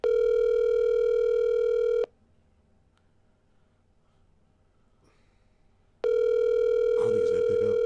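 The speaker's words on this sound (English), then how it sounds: "You gotta pick up the phone." A telephone ringback tone while a call is placed: a loud steady ring for about two seconds, a gap of near silence, then the ring returns with a faint voice breathing over it.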